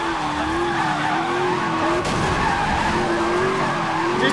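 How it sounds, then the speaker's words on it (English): Tires squeal in a long sustained skid as a car drifts in NFS Most Wanted, the wavering screech loud and close over a steady engine roar for the whole stretch. "Just drifted in front of the SWAT officers."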